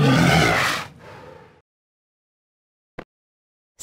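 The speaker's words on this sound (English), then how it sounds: "Walrus." A walrus gives a loud, rough grunting bellow that fades out over about a second and a half, then silence broken by two short clicks.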